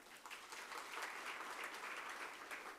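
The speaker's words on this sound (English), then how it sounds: "Can I request just a round of applause?" A full round of audience applause at an international conference in Durban, South Africa, sustained and even for about three seconds, with crowded, overlapping claps and no talking.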